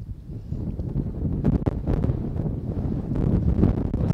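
Wind buffets the microphone at the Teos ancient city ruins, a steady low roaring rumble with gusts swelling and fading across the whole stretch, close and fairly loud with no voices.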